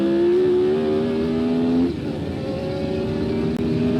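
A 1978 Formula One race car in a racing video game, its engine holding a loud steady high-pitched drone that shifts gear partway through and keeps pulling as power is applied out of a corner.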